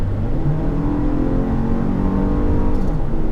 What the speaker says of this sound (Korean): 다시 한번 가속 페달 꾹.